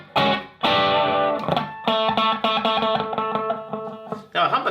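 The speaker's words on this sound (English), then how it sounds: "Now a humbucker is a really interesting sound for distortion." Distorted electric guitar on a humbucker pickup: thick, gritty notes and chords struck in quick succession, with short gaps between phrases, loud and upfront with no other sounds.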